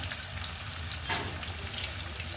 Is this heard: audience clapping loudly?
no